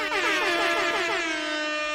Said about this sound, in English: Here, I'll give you some air horns